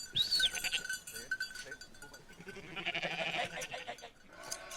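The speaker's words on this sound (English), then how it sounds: "When the sheep need to be sheared, the shepherd leads them in from the field." Sheep bleat softly at a distance, a few scattered calls over quiet outdoor ambience.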